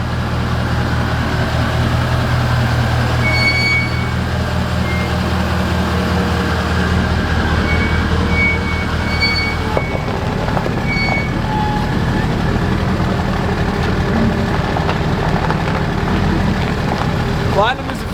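A Ford 6.7 Powerstroke diesel pickup with a newly built 6R140 transmission drives off, a steady loud low diesel rumble and drone that shifts in tone partway through, with faint rattles over it.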